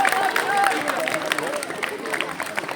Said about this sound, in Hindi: सभी एक साथ ताली लगाइए जोर से।